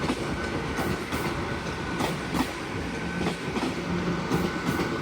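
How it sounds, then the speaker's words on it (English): An LNER Class 800 unit, 800-103, runs past at Carlisle on the West Coast Main Line during East Coast diversions. It makes a loud, steady rumble with a rhythmic clickety-clack of wheels crossing rail joints. "(800-103) working a service from Edinburgh Waverley to London King's Cross"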